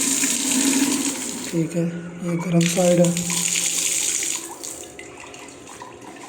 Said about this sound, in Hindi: पानी भी चला रहा है